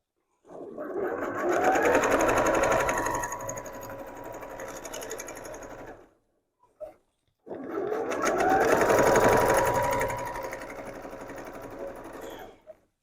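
A sewing machine doing free-motion quilting runs in two sustained bursts of rapid, steady stitching, separated by a short pause with a brief stray clatter.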